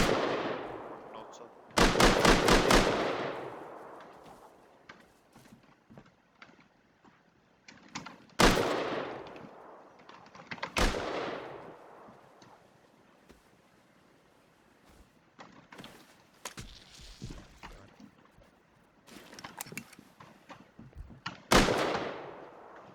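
Bursts of turret gunfire in a military survival video game, with repeated sharp volleys and single shots spread across the clip, some loud and close, others fainter, and voices talking in between.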